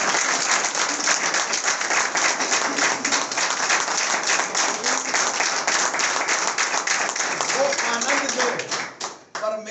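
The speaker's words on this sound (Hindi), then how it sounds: "अपने आनंद परमेश्वर के लिए ताली बजा के दिखा सकते हैं?" A church congregation claps together in a dense, continuous round of applause that fades out near the end, with voices mixed in under the clapping.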